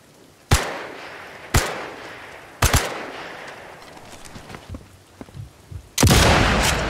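Rifle shots in the video game Sniper Elite 5: four sharp, loud single cracks spaced about a second apart, then a fifth heavier blast near the end, with smaller impacts and game noise between.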